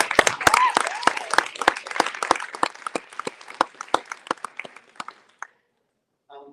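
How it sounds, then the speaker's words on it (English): A press conference audience claps for young people from an early college, a smaller group giving distinct sharp claps that thin out and stop, followed by brief quiet and a faint voice. "Can we just give a round of applause again to these young people coming out here?"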